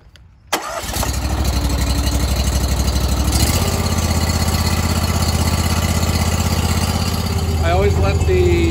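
A Japa 365 Pro firewood processor's engine cranks and catches, then settles into a steady, loud low idle that runs on without a break, with some faint extra mechanical whine near the end.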